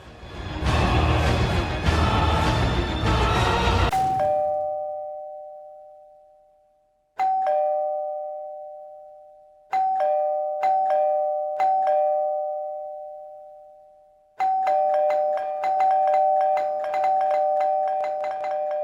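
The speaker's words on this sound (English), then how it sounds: "Denji awakes to someone incessantly ringing his doorbell." An apartment doorbell in the Chainsaw Man anime rings over and over, a two-tone electronic chime pressed once, then in quick repeated bursts, loud and alone after a brief noisy opening.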